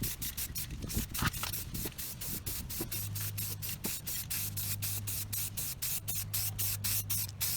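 Aerosol paint sprayed over a car emblem while rust is painted: repeated short hissing bursts in quick succession, close and steady, with a faint low hum beneath and no talking.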